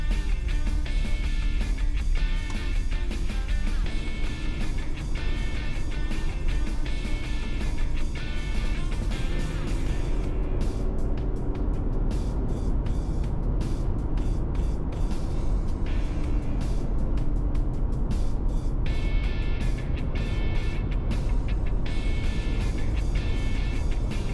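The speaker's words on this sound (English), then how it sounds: "You might wonder why I'm driving on pavement" A vehicle cruises along a paved road near Nicola Lake in British Columbia, its steady engine drone and tyre roar continuous and close throughout, with the surface noise softening slightly midway.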